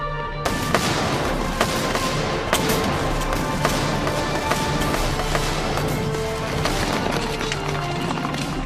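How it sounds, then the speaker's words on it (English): French Charleville muskets fire in a misty battle at the village of Telnitz. A dense, continuous roar of scattered shots, thuds and volleys carries on throughout, loud and unbroken, with more sharp reports standing out from the din. "the French opened fire with their Charleville muskets"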